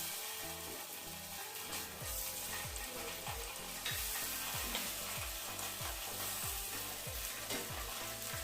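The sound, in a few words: fish fry (sardine) frying in a pan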